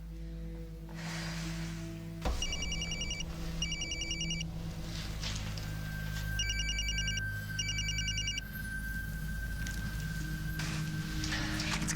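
A telephone rings in four short bursts, each a pair of trilling electronic rings, over a low steady hum. The call then goes unanswered.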